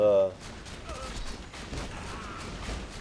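Borderlands 2's orange Baby Maker gun fires a quick string of light, snappy shots at moderate volume. A brief musical tone opens the sequence.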